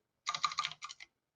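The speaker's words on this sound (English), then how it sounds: "I'm deliberately typing it all in." Keystrokes on a computer keyboard, a quick burst of close, distinct clicks typed in two short runs with a brief pause between, clear and alone.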